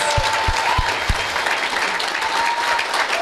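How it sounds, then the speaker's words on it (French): Audience applause fills the room in a steady, dense wash of clapping that holds from start to finish, with a few heavier low thumps near the beginning. "une bonne main d'applaudissement pour Emery."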